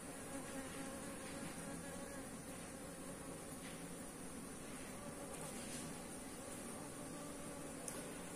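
A large honeybee colony buzzes at its nest in a steady, dense drone, close and continuous, with no voices over it.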